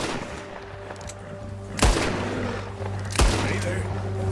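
Two loud, sharp gunshots a little over a second apart during a bear encounter in Red Dead Redemption 2, over low game ambience and hum.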